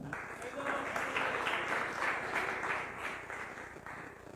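Church audience clapping at a pastor's Telugu sermon on the Day of the Lord, a steady rolling applause of many hands held at moderate loudness throughout, with faint voices mixed underneath.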